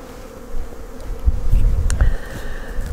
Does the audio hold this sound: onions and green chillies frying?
no